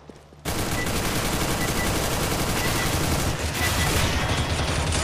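Rapid automatic gunfire from a Counter-Strike: Global Offensive match rattles in dense, continuous bursts after a short quiet start, loud and close, with no pauses for the full stretch.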